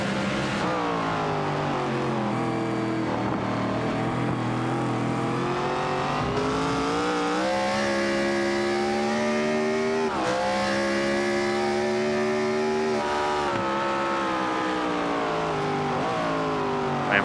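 Stock cars of the Winston Cup Series roar down the straightaway into the chicane at the Montreal road course, engines howling and rising in pitch, then dropping as they brake, with several cars overlapping, loud and close throughout.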